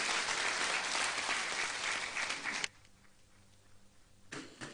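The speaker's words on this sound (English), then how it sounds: "Another round of applause, please" Loud, sustained audience applause at a peace and security summit, filling the first half before cutting off abruptly, leaving a quiet stretch with faint room sound, then a short burst of clapping returns at the end.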